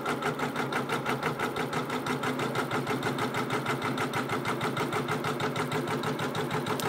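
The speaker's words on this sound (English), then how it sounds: "So it did 10 basting stitches and then jumped to the design." An embroidery sewing machine stitches a quilt held in the hoop, a steady rapid mechanical chatter with an even pulsing rhythm, close and continuous throughout.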